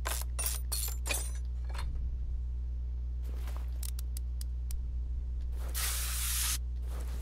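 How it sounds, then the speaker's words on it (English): Short bursts of WD-40 aerosol spray in the Car Mechanic Simulator 2021 video game during an exhaust repair, several quick hisses early on and then a longer broadband hiss near the end over a steady low hum. "Get that WD-40 in there."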